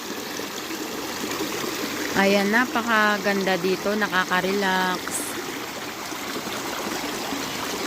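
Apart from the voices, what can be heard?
river water flowing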